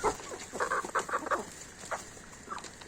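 Turkeys cluck nearby in short, uneven bursts, several calls overlapping, with no talking.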